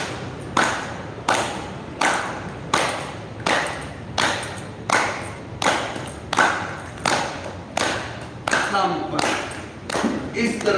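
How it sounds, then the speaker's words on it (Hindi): Rhythmic hand clapping in a group clapping-therapy session at a Preksha meditation yoga centre: about a dozen sharp, evenly spaced claps, close and crisp, with a voice briefly under the later claps. "इस तरह ताली चिकित्सा के द्वारा रोज बजाए ताली और हमेशा स्वस्थ रहे।"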